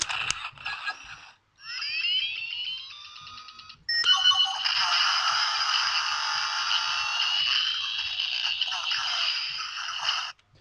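Electronic toy watch sound effects: short bleeps, then sweeping synthetic whirs and a long buzzing, crackling electronic tone, played loudly and close.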